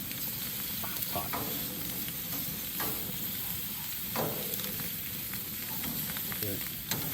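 Pork tenderloin sizzles steadily on hot grill grates, a continuous close crackling fry with small pops and occasional louder spits throughout.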